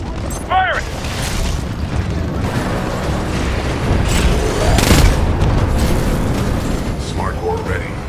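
Titan weapons fire and heavy explosions in the Titanfall 2 single-player campaign, a dense, loud stream of booms and mechanical clanks with bursts of sharp pops, with game voice callouts over the top.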